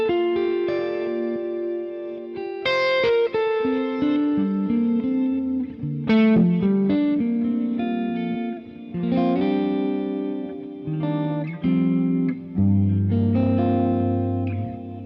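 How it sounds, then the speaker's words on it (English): Electric guitar played through a Line 6 Helix preset with dynamic plate reverb and reverse delay, sustained chords and melodic lines swelling and washing into each other, loud and continuous with no talk. "We've got a dynamic plate and a reverse delay."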